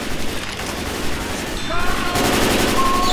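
Dense gunfire in the zombie shooter Left 4 Dead 2, with rapid overlapping shots forming a loud, continuous rattle that thickens toward the end, with voices heard faintly in the mix.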